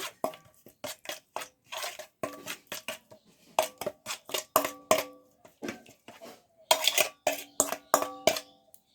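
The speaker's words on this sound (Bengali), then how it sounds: "ভালো করে মিক্সড করে নেব" Ingredients for KFC-style chicken, including lemon, are mixed in a bowl with a utensil, giving a series of sharp ringing clinks and taps in irregular bursts, close by with no talk.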